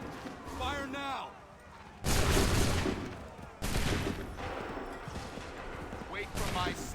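A musket volley in an Assassin's Creed video game, two loud crashing blasts of massed gunfire a couple of seconds apart, with shouted commands and other voices around them.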